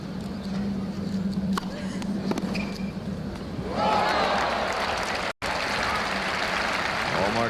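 A tennis crowd at a 1986 US Open semifinal breaks into applause midway, a broad steady roar of clapping following quieter arena ambience, with a brief dropout near the end.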